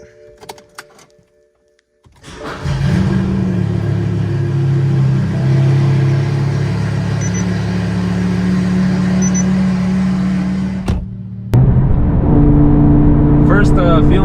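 A BMW E60 M5 with a Dinan throttle booster cranks and fires up, settling into a steady, loud idle rumble that drops briefly before a sharp rev blips the engine higher.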